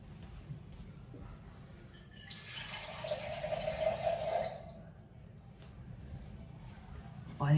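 Water pours into a container of milk being mixed for an animal, a gentle trickling fill of about a second and a half rising over steady low background noise.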